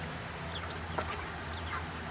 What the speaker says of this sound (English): It's not the most energetic birds you'll ever see.